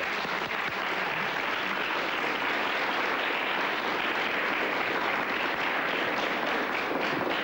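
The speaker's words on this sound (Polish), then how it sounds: "muszą być brawa" A studio audience at a 1998 Polish evening talk show breaks into steady, dense applause that fills the whole stretch without a break.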